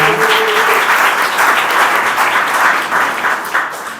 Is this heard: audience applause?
yes